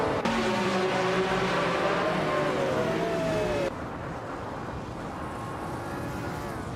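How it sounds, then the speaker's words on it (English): An MKC 831 Group C2 race car from 1983 racing in a game, its engine droning loud and steady, with pitch rising and falling through gear changes, then dropping to a lower, quieter hum partway through. "Rob Sizzle is driving an MKC 831, a classic Group C2 car."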